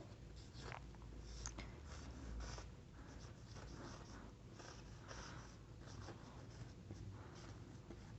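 A matrix of zeros being written by hand for a ninth-grade maths lesson, with faint, steady scratching of the pen on paper against a constant background hiss.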